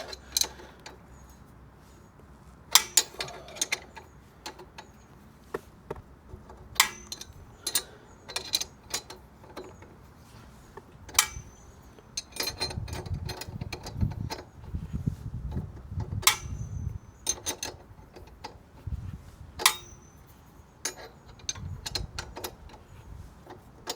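A wrench works on the rear wheel axle nut of a 2026 Honda CB125F motorcycle, giving scattered close metallic clicks and ratcheting taps spread over a quiet stretch, with a low rumble in the middle.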